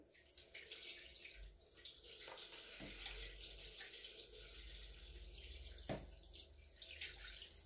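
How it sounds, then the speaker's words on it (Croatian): Extra water is poured into a pot of sarma, a soft continuous trickling stream with a couple of small knocks, quiet and close. "slobodno nalijete još vodi"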